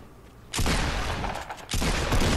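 Gunfire in Fortnite Battle Royale, including a pump shotgun shot: a dense, loud burst of shooting starts abruptly, stops briefly, then resumes just as strongly, with no voices.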